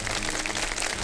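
Studio audience applause on a Ramadan television game show, a short burst of steady, close clapping.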